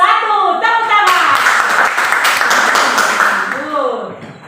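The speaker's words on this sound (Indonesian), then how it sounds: "Berikan penghargaan untuk kelompok 1. Tepuk tangan." Classroom applause for a student group presenting at the front, a dense burst of many hands clapping that starts after brief talk, holds steady for about three seconds, then fades as voices return.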